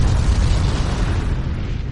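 Sunken ship's hull blown apart underwater by rising pressure in an explosion-implosion: a loud, heavy, low rumbling blast with a dense roaring body that slowly thins over two seconds, with no voices.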